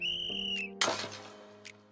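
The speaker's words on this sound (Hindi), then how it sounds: "ये सीटी चौकीदार ने नहीं बजाई थी, ये यश था।" A single shrill whistle blast rings out clearly at night for under a second, fading quickly before a sudden loud crash and a faint second toot.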